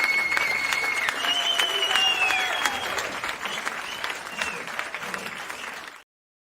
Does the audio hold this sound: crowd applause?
yes